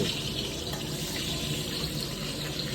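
Fried paneer dropped into a pan of hot water gives a steady close wash of running, splashing water throughout, with no voices.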